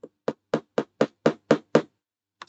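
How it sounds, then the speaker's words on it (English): Eight evenly spaced light metallic taps of a hammer on a model aircraft engine part for a Lancaster bomber model, close and crisp, followed after a pause by one more faint tap. "I am going to just give it a gentle tap with my hammer here"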